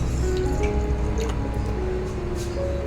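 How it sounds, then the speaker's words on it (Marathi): Water is poured onto a spoonful of basil seeds set to soak, giving a short, close trickling and splashing sound with no talk. "आता पाणी घालूया."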